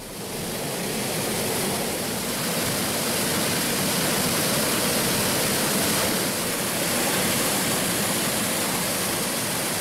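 Manimuthar waterfall pours steadily, a loud, dense, continuous roar of falling water heard up close with no break and no voices.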